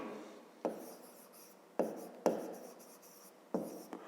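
A pen writes out a fifth-grade math exercise by hand, producing several distinct scratchy strokes separated by short pauses, close and quiet.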